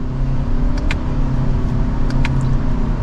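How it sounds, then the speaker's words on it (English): Interior engine drone and road rumble of a 2025 Toyota Camry XSE accelerating in Sport Mode, held in second gear, a steady loud hum with a few faint clicks and no talking. "behind the wheel now for the Camry Sport Mode second gear, here we go"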